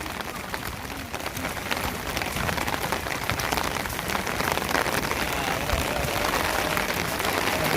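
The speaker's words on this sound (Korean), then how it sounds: "진짜 비가 지겹게 오네요" Heavy rain pours steadily at a horse-racing training track, a dense continuous hiss of drops drumming on surfaces throughout, loud and unbroken with no clear speech.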